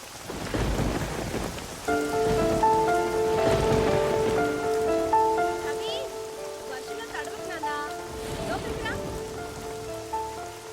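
Heavy rain pours steadily with rumbles of thunder in a film scene, a dense continuous downpour under a musical score and brief voices.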